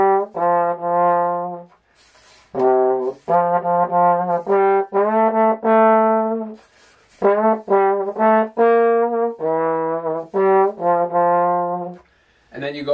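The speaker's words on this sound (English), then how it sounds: "For this song, that E natural is below the staff coming back up to the F." Solo trombone plays a Christmas song melody in clear sustained phrases of separate notes with short breaths between, close and fairly loud, with no talking.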